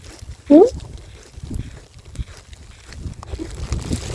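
Wind rumbles and buffets against the microphone in low gusts, with a brief sharp sound near the start and faint background activity.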